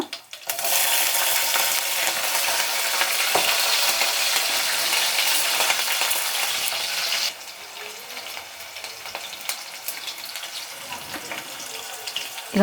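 Curry leaves and green chilies sizzle in hot oil in a pan, a loud, dense hiss that bursts in at once, holds steady, then drops to a quieter crackle partway through.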